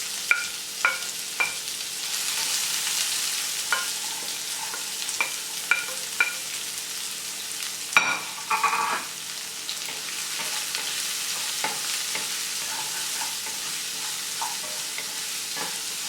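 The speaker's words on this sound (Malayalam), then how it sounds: "ഒരു മീഡിയം സവാള ചെറിയ കഷ്ണങ്ങളായിട്ട് മുറിച്ചതും 2 പച്ചമുളക് വട്ടത്തിൽ അരിഞ്ഞതും ഒരു ചെറിയ കഷ്ണം ഇഞ്ചി അരിഞ്ഞതും കൂടെ ചേർത്ത് നന്നായിട്ട് വഴറ്റി കൊടുക്കാം." Onion, green chili and ginger sauteing in oil for Kerala rava upma sizzle steadily up close, with repeated spatula taps and scrapes against the pan and a louder stirring clatter midway.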